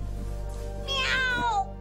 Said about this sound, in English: there's some cat outside and it's killing the mood